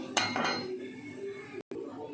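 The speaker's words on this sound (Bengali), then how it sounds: "কড়াই বসিয়েছি" A metal wok (kadai) is set on a stove in a home kitchen, giving a couple of close metallic clanks and a short scraping rattle before things settle, with faint background noise.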